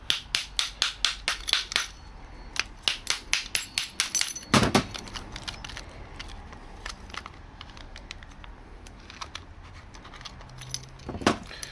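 Rapid series of sharp metallic taps, a hammer striking a spike on a door handle lock's cylinder retainer in quick rhythmic bursts, then a heavier blow and scattered lighter knocks.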